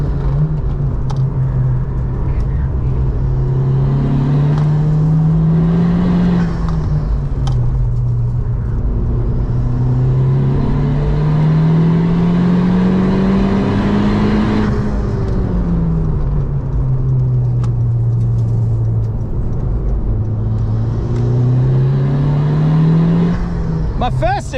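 A Honda Civic Type-R FK2 lapping the Nürburgring: a loud, continuous in-cabin engine drone rises and falls through gear changes and acceleration, with road and wind rumble throughout.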